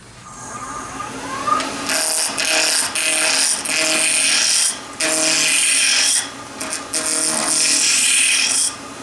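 Drill boring into a wooden Christmas ornament on a lathe, loud rasping cutting bursts in repeated stretches separated by brief pauses, over a steady motor whine.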